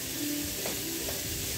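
Meat and garlic sizzle steadily in a hot pan, a soft continuous frying hiss with faint stirring and no talk.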